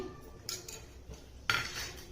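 A metal spoon clinks twice against a frying pan as a spoonful of oil goes in, two sharp separate taps close by with quiet between.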